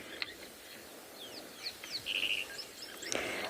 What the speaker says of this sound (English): lots of weavers, which is what you're hearing at the moment